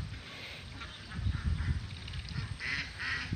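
Ducks quack in a quick series of nasal calls, fairly close, over a low background rumble.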